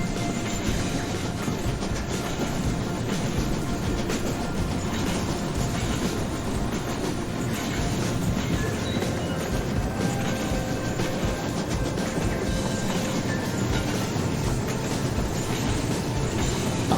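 A model train rolls along its track in the Rolling Line train set simulator, a steady, loud rumble with faint clickety-clack and metallic mechanism noise running continuously throughout.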